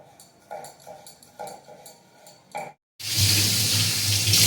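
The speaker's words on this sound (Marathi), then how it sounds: "भांडी घासला म्हणून पाण्याचा आवाज येत आहे" Light clinks and short knocks of dishes being washed, then a tap opens and water runs steadily and loudly in a kitchen.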